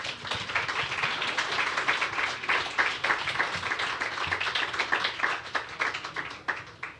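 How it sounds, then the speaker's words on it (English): Audience applause fills the hall at an international design awards ceremony, a dense, steady crowd clapping sustained loudly for several seconds with no voices over it. "Another round of applause, please."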